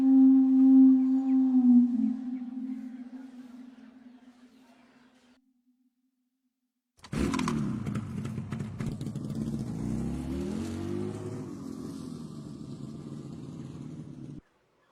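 A motorbike starts up and pulls away after a short silence, its engine rumbling and revving steadily at close range until the sound cuts off abruptly. Earlier a drawn-out tonal sound fades out.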